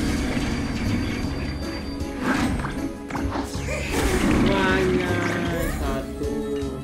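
A train rushes through a warp animation in Honkai Star Rail, loud rumbling rail noise with rising whooshes and chiming, sweeping tones over several seconds, and a voice speaks briefly underneath.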